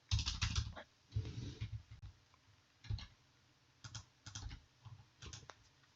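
Keyboard typing in a computer-building video game: quick bursts of clicky keystrokes separated by short pauses, fairly quiet and close, with no voices.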